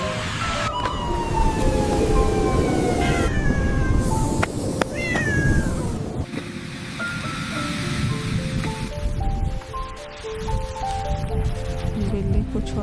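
Cat meowing in a rescue scene with a cat caught by an anaconda, several distinct wavering meows rising and falling over steady background noise and some music.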